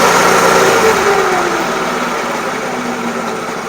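The small engine of a McLane Greens Keeper 25-inch commercial reel mower runs loud and close with a steady drone, its pitch easing down slightly as the throttle is lowered.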